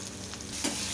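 Chopped potatoes with salt and turmeric sizzle in hot oil with black cumin, a close, steady frying hiss with a brief stirring scrape near the end.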